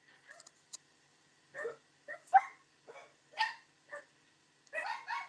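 Dogs bark indoors in a house, a scattered series of short sharp barks and yips, some doubled, heard at moderate distance against an otherwise quiet room.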